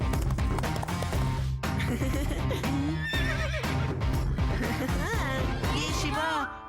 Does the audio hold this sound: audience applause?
no